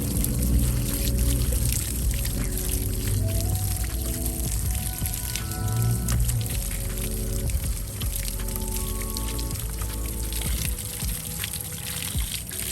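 Steady running water from a hose without pressure rinses a car, splashing and pouring continuously across the whole stretch, a broad wash of hiss and spatter with faint tonal hum underneath.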